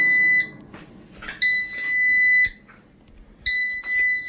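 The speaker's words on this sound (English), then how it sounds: "that buzzer means it's done" An Emeril Lagasse 6-quart Power Air Fryer sounding its done buzzer: three loud, piercing electronic beeps, each about a second long with short gaps, close and alone.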